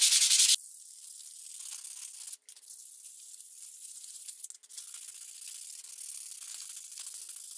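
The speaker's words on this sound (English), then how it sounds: "So we're going to go ahead and sand a little bit on this." Knife scales for a cable Damascus knife being hand sanded to scuff off a high-gloss finish: a steady, close, dry rasping rub that runs on evenly, with two brief pauses, after a short louder scrape at the start.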